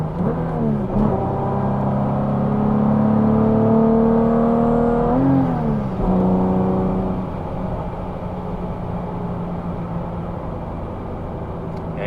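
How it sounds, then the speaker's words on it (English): A V6 engine in a Toyota MR2 revs up steadily, its pitch climbing through the gears, then drops and settles into a lower, steady drone. "this engine also likes to rev"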